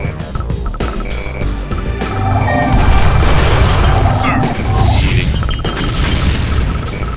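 Missile launches and explosions in the real-time strategy game Tiberian Sun, a dense run of loud booming blasts and crashes layered over continuous battle noise, swelling in intensity midway and staying heavy throughout.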